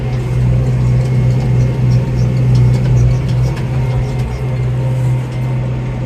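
Massey Ferguson 5711 tractor driving steadily across a field at around 15 km/h, its engine a loud, constant low drone with no changes in pace.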